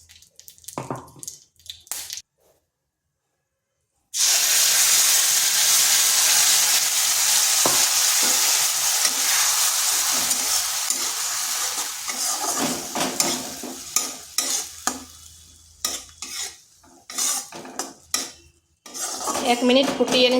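Chutney hits a pan of hot spice tempering with a loud burst of sizzling that runs steadily, then thins into softer frying as a spoon stirs and scrapes against the pan in uneven strokes, after a few quiet seconds at the start.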